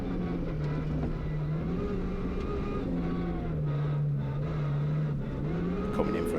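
Rally cars on a stage in Anglesey, one closing in to overtake, heard as steady loud engine drone with shifting pitch as the cars rev and accelerate, under faint commentary.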